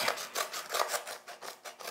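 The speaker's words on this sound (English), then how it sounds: "you want to cut up the whole length of it, and then you want to cut slots into the side of it" Household scissors cut lengthwise along a cardboard paper towel roll in a close, dry rasping series of about seven or eight quick snips, each a brief papery crunch, with no other sound.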